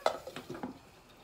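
A metal lid clatters onto a cooking pot of sautéed squash, a few quick clinks and a settling rattle, close by and fairly quiet.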